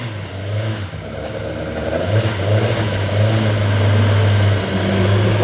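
A historic racing car engine with individual throttle bodies and a double overhead camshaft revs up nearby, the pitch climbing in a strong, sustained buzzing drone that holds before easing off at the end.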